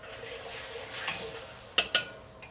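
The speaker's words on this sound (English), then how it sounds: "I'm going to thicken this sauce up. Very important to stir while you're doing this." Sauce being stirred in a wok as it thickens, a soft continuous scraping and bubbling hiss near and alone, broken by two sharp clinks of a utensil against the pan toward the end.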